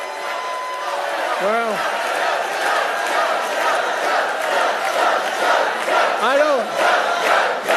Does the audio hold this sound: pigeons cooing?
no